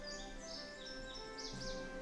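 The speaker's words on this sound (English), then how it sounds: "I hear the birds." Birds chirp in the Nancy Drew game Ghost Dogs of Moon Lake, a lakeside setting: short high tweets and trills come in small bursts, fairly faint, over a steady humming game ambience.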